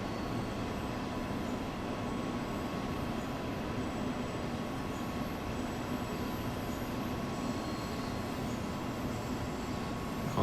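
A train passes in Train Sim World 2 on the Hamburg–Lübeck main line, a steady, loud rolling rumble of wheels and carriages that holds unbroken for about ten seconds with no talk.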